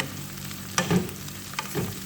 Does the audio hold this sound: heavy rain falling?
no